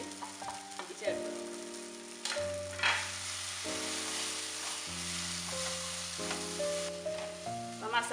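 Spice powders sizzle in a pan for a mushroom masala roast with a continuous soft frying crackle, while gentle background music steps through sustained tones underneath.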